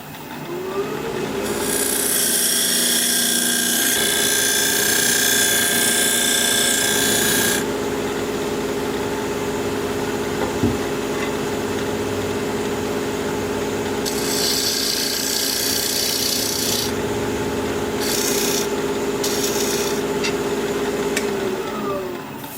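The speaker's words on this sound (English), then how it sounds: "I'm just going to use this diamond point tool to square up the sides of my tenon." A diamond point tool scrapes against a spinning bark-on wooden bowl blank on a wood lathe, squaring the sides of its tenon. Rasping, hissing cuts come in bursts of varying length over the steady hum of the lathe motor.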